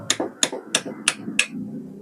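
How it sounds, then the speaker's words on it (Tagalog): A hammer strikes a tight nut to loosen it during bearing repair, five sharp metallic blows in a steady rhythm about a third of a second apart, close and alone. "Gumita na natin ng martilyo."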